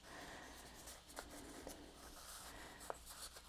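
Cricut cardstock card being folded in half by hand: a soft, quiet paper rubbing and creasing with a few faint crisp ticks, close and alone.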